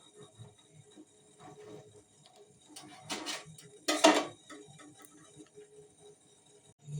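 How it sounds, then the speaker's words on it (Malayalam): A knife slices through a lemon on a board for hibiscus juice, giving a couple of brief, close, crisp cuts around the middle among quiet kitchen clinks, with no talk. "നാരങ്ങ മുറിക്കാം കേട്ടോ."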